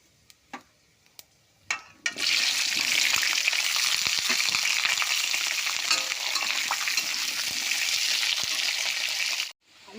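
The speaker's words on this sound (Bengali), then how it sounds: "প্রথমে আলুটাকে ভেজে নেবো আমি" Potatoes fry in hot mustard oil with a bay leaf and nigella seeds in a kadai, a steady loud sizzle that starts after a few faint knocks and runs continuously until cutting off near the end.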